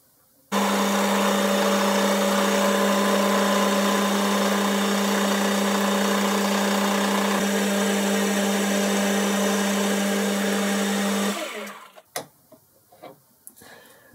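A milling machine cuts the third face of a steel DTI holder made from scrap, a loud steady droning hum with a constant whine that stops abruptly near the end, followed by a few clanks.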